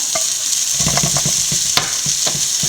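Carrot and bitter gourd frying in a pan for pickle, a close steady sizzle broken by repeated stirring scrapes and clicks of a utensil against the pan; no voices.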